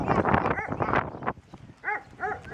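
A dog gives a few short barks and whines after a stretch of talking, with quieter animal sounds in the background.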